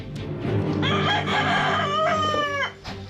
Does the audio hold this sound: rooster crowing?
yes